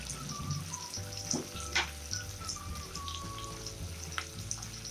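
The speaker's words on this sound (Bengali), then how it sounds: "পেঁয়াজগুলোকে খুব ভালো করে ভেজে নিতে হবে, ততক্ষণে এগুলো গোল্ডেন কালারের হয়ে যায়" Onions sizzle as they fry in a pan, a soft continuous crackle with a few brief stirring clinks and a faint tonal background.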